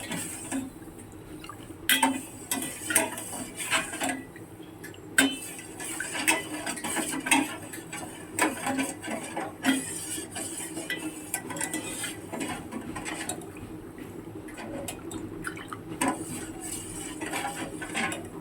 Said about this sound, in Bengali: দেখো যতক্ষণ চিনিটা না গলবে ভালো করে, নিচে না হলে ধরে যাবে, ততক্ষণ আমাকে নাড়াতে হবে।